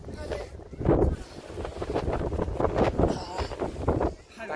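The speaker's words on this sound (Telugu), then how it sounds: "ఇట్లా గట్టి గాలి వస్తే ఎగిరిపోతామేమో, అంత గాలి వస్తుంది." Strong gusting wind on a mountain trek buffets the microphone in heavy, rumbling surges that rise and fall close up, with a voice faintly mixed in.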